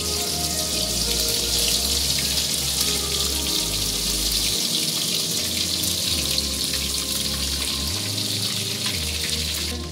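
Water pours steadily into biryani masala in a pot, a loud continuous running-water rush lasting throughout with no talking.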